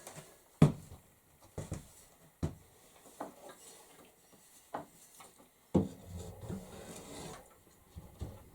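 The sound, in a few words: rasp filing a wooden handle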